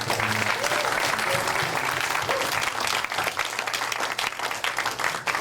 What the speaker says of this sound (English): if we can give him a big round of applause